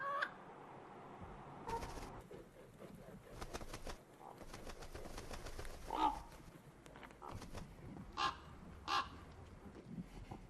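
Crows caw repeatedly in harsh, spaced calls, some close and loud and others farther off, over a steady outdoor background with occasional rustling.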